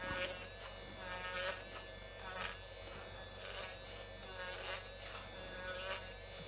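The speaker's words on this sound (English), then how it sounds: "I'm just going to go right in and buff this up" A rotary tool with a polishing wheel buffs an airbrush needle, giving a continuous close electric buzz with a steady hum underneath and faint scraping pulses as the wheel contacts the metal.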